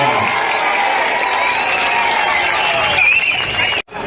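Large outdoor crowd clapping and cheering at a political rally in Palamaner, a steady dense roar of applause with shouts that cuts off abruptly near the end.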